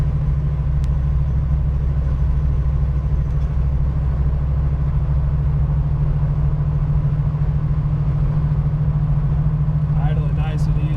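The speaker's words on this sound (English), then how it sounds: "Idling nice and easy, real smooth." A 1965 Ford Mustang K-Code fastback with a solid-lifter 271-horsepower V8 and four-speed idles smoothly nearby, a steady deep rumble that holds unchanged for the whole stretch.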